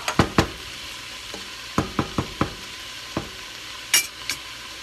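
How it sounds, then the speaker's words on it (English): Mushroom bolognese being stirred in a hot pan, with a steady sizzle under a string of sharp scraping knocks from the spoon against the pan, loud and close, no voices. "Give it another quick stir."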